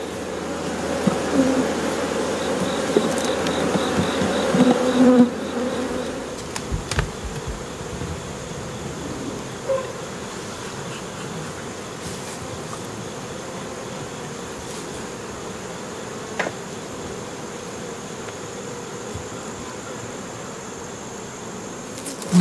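A honey bee colony buzzes at a hive during preparations for winter, a dense steady drone that is louder at first and then settles to a softer hum with occasional knocks.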